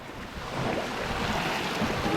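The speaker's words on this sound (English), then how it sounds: "the current's pushing us back and the waves are pushing us back" Waves wash and slosh against the hull of a small sailing boat, Mingming II, in heavy weather, forming a dense, continuous rushing roar with wind, loud and close, with no voices.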